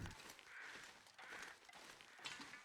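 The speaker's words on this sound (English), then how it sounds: "Got some crows going throughout the day" Crows caw in the video game The Long Dark, a few harsh calls coming in spaced bursts at moderate distance against a quiet outdoor background.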